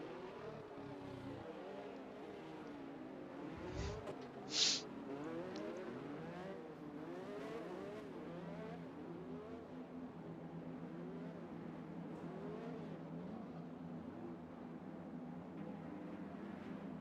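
Formula 1 race cars in the F1 2021 video game roll toward the starting grid at the Australia round. Several engines hum and whine at low revs, their pitch rising and falling in overlapping sweeps. The sound stays quiet and steady throughout, with one brief sharp blip partway through.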